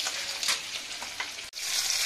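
Boiled potatoes fry in oil over high heat in a pan, giving a steady loud sizzle with brief stirring scrapes and a momentary dip partway through.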